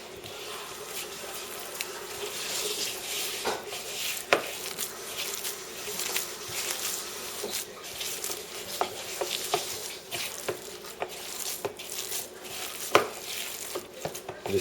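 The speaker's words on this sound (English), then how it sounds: "I'm just going to mix all this around" Ground deer meat being mixed by hand for burgers, a soft wet squelching and stirring that runs steadily with occasional sharper sticky slaps, close and fairly quiet.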